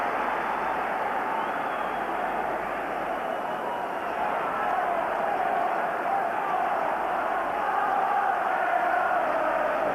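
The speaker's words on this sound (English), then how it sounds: "Well, the crowd are enjoying this now." Football stadium crowd at a Rangers versus Borussia Dortmund match, a dense, continuous roar of many voices swelling slightly toward the end, heard from a distance like a broadcast ambience.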